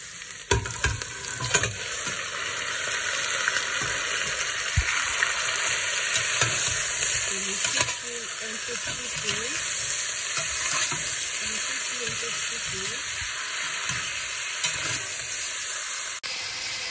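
Beef sizzles steadily in a pan with onions, salt and cumin, a loud continuous frying hiss with occasional stirring scrapes, no voices.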